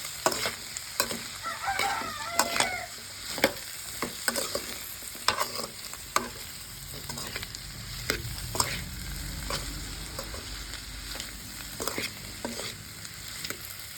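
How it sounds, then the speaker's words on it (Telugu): Bitter gourds fry in a pan over a low flame and are stirred steadily, with repeated spoon scrapes and taps over a constant soft sizzle. No voices are heard. "కాకరకాయలు అయితే మంచిగా కలుపుతున్నాను"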